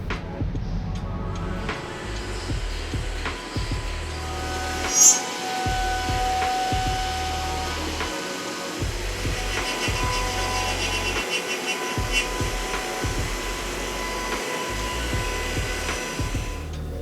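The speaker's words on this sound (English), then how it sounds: "The aluminum body of the squares are milled with one of our state-of-the-art robots." A state-of-the-art robot mills the aluminum bodies of joiner's combination squares, giving a steady high machine whine with sustained tonal hum and a brief sharper squeal partway through, continuous and fairly loud, with no talking.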